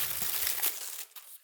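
A plastic bag inside a box crinkles and rustles as a 30 cm light bar is unboxed, close and fairly soft, then fading into quiet after about a second.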